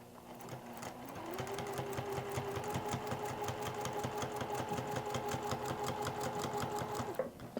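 A sewing machine stitches quilt binding with a steady, rapid mechanical whir and needle clatter, running continuously at close range before stopping near the end.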